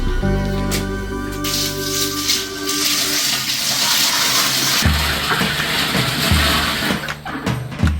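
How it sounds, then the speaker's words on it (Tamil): Water gushes and splashes steadily into a fish tank being filled, a loud, rushing pour with a low mechanical hum at the start. "அடுத்து தண்ணி ஃபில் பண்ணுறது தான்."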